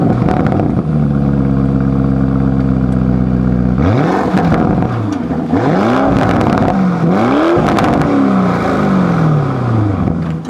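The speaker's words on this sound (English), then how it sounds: "at the heart of every Lamborghini is the sound. So let's put it into Corsa mode and let you guys listen to it." Lamborghini Urus Performante SUV in Corsa mode: a steady engine idle gives way to several loud, sharp revs that rise and fall in quick succession, close by with no talking.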